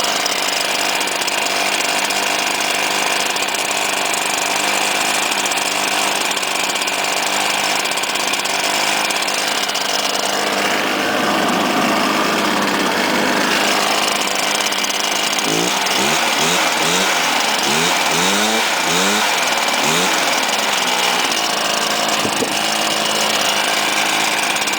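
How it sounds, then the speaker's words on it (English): A two-stroke gas string trimmer engine runs steadily and loud with a high buzzing whine, shifting pitch partway through as the throttle changes, with no talk over it. "it fires on the second or third pull. This is a 2-mix motor."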